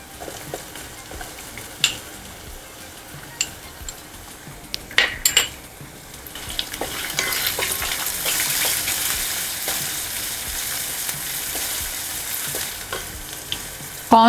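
Tomatoes and other vegetables go into hot oil in a pan for vegetable upma, starting with scattered clinks and taps of a spoon against the pan, then building into a continuous close sizzle with stirring scrapes over it.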